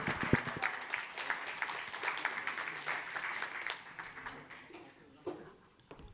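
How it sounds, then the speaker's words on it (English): Audience applause for a guest at a live green-innovation talk show, steady clapping from a crowd that carries on for several seconds before thinning out into scattered claps, with faint voices underneath. "give a warm round of applause to my next guest, Suzanne DeBianca."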